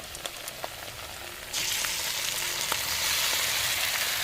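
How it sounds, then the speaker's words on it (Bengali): Tomato, chilli, ginger and garlic paste hitting onions frying for a mutton curry: light crackling pops give way abruptly to a louder, fuller sizzle that holds steady close by. "এখন এর মধ্যে আমি পেস্ট করে রাখা মশলাটা দিয়ে দেব টমেটো লঙ্কা আদা রসুন সব একসঙ্গে একটা পেস্ট করে রেখেছি"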